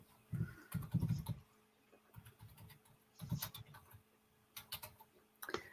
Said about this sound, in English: I'm typing in my website.